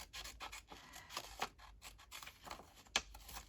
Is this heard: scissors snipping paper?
yes